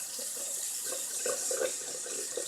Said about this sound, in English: And I do it while I'm running it under the water.